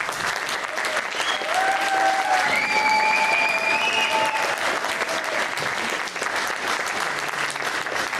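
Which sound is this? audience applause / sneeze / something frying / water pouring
audience applause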